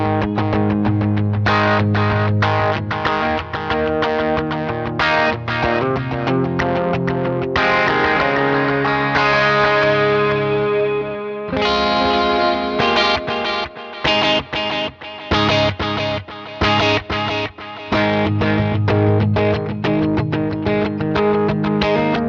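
Electric guitar through overdrive and delay pedals into a Neunaber Iconoclast, with heavy distortion and echoing delay, playing rhythmic chords and a sustained bending lead line, loud and upfront.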